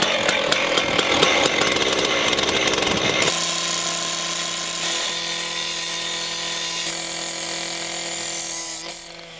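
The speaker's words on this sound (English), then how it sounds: "And all I had left to do was cut the steel." A loud, close power saw cuts steel for a house foundation, a harsh grinding whine at first that settles into a steady high ringing tone before tapering off near the end.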